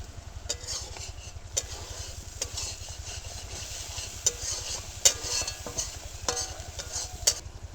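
Tomato sizzles in oil in a pan while a utensil stirs and scrapes it, with sharp clicks of the spoon against the pan over a constant low hum and no talking.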